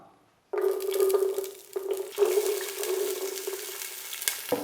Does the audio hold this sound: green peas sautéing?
yes